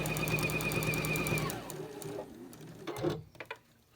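A sewing machine stitches quilt patchwork for an Ohio Star block in a fast, steady mechanical run that stops after about a second and a half, followed by a few light handling clicks.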